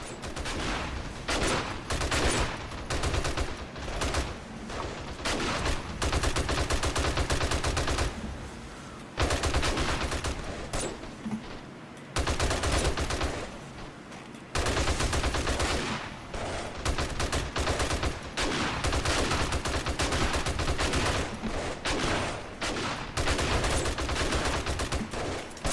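Sustained rapid 7.62 gunfire in the zombie-survival game 7 Days to Die, loud and nearly continuous bursts with only a few short pauses, dense and close with no talking.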